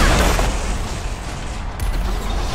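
A turret fires in the mech game Figureheads, a loud, sustained burst of rapid gunfire filling the clip, with a brief dip partway before continuing.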